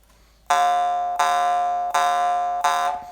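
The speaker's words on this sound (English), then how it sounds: "This is what a misaligned harp sounds like." A jaw harp with a misaligned reed is plucked four times at an even pace, each twang ringing out with a buzzy, slightly fuzzy tone instead of a clear ring before fading.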